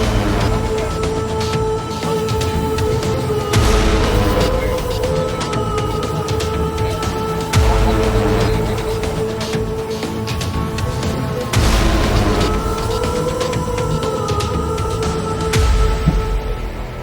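Firecrackers keep going off in a fireworks factory accident, with recurring booms and crackles over a continuous loud roar and wailing tones.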